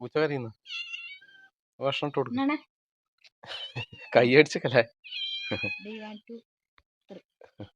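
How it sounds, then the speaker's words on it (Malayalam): A cat meows a few times, close by, interleaved with a person talking in a home setting. "പൂച്ച കരയുന്ന"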